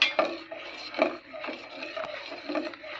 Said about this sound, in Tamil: அப்படியே கிண்டிக்கிட்டே இருக்க வேண்டியதுதான் எல்லா பக்கமும் ஒட்டி இருக்கிறதெல்லாம் எடுத்து விட்டு நல்லா கிண்டிக்கணும்